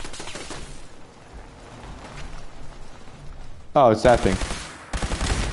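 Automated turret gunfire in Fallout 4, bursts of rapid shots firing late in the run over a low background, with someone speaking briefly in between.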